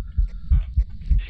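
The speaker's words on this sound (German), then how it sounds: "Herzschlag." A heartbeat thumps in the video game Phasmophobia, low and muffled, with about four evenly spaced heavy beats, each a soft double pulse, with a faint tonal hum behind it.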